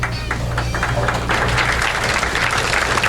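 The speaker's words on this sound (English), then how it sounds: "Getting a round of applause" Steady applause from a crowd at a 1991 tournament semifinal match, a dense wash of clapping that swells slightly halfway through and holds loud to the end, with no talking.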